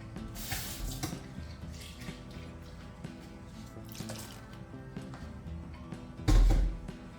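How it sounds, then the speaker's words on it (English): Water pours into a cooking pot of gbegiri soup being made for amala, trickling softly in a kitchen before a short, louder splash near the end. "So I'll add in a little bit of water."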